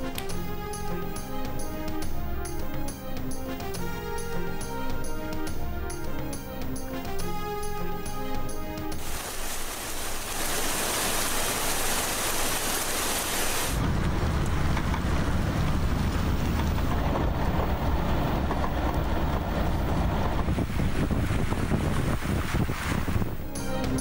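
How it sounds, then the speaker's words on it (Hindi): Heavy torrential morning rain in Islamabad, Rawalpindi and Peshawar: after a stretch of music, a dense, loud, continuous hiss of downpour fills the scene steadily to the end. "इस्लामाबाद, रावलपिंडी, पेशावर में सुबह मूसलाधार बारिश"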